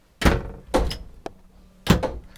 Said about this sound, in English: There is a trap door in the floor.